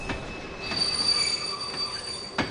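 Metal train wheels squeal in the Kingdom Hearts video game, a sustained high, piercing screech with a steady rolling rumble beneath, loud and close, swelling midway and ending with a brief clank.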